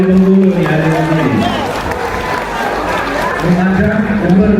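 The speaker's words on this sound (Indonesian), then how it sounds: "Tepuk tangan buat yang dari Bengkulu nih" Crowd at an Indonesian opposition political rally cheering and clapping for attendees from Bengkulu, a dense roar of many voices and applause filling the whole stretch, with a loud voice carrying over it at the start and end.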